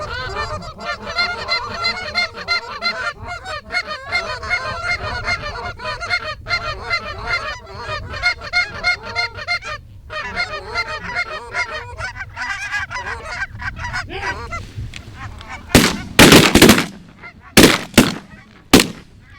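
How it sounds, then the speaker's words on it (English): Repeated Canada goose honks blown on a short reed goose call, a long run of rhythmic, loud, close two-tone notes, followed near the end by a few sharp, loud bursts. "The honk is the first and most important note to learn with a goose call"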